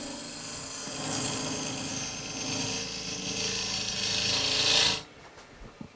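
Woodturning tool cutting an amboyna burl lidded box on a lathe, a steady broadband scraping hiss over motor hum that runs for about five seconds, then stops abruptly, leaving quiet room noise and a few light knocks.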